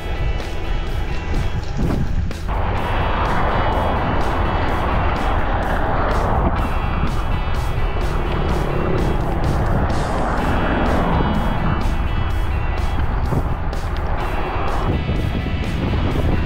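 Road traffic on a mountain road near Tagaytay during a rainy motorcycle ride: a steady, loud roar of engines and wind rumble with passing vehicles, continuous throughout and no talking.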